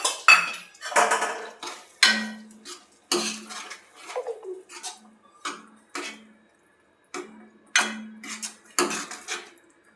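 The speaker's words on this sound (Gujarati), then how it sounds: "આપણે આમાં લીંબુનો રસ નાખી દઈશું, લીલા ધાણા નાખીને બધું મિક્સ કરી લેશું" A spoon mixes sabudana khichdi with lemon juice and fresh coriander in a metal pot, sharp bright clinks and scrapes coming in irregular bursts with short pauses between, close and with no talking.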